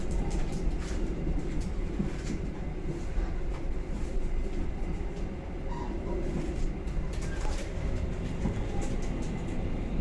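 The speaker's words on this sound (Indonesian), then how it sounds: "Ada kereta api Ranggajati" Ranggajati train bound for Jember at Yogyakarta Tugu station, a continuous low rumble of rolling railcars with pigeons cooing and fluttering nearby, steady and moderately loud.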